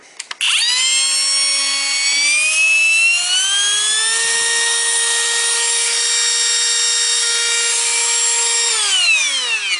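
A Ridgid 18V brushless cordless power tool whirs up to a high, smooth whine, climbs in pitch and holds steady up close for several seconds, then winds down at the end.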